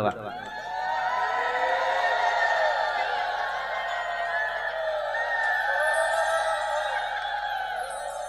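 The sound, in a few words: crowd chanting Hari bol and ululating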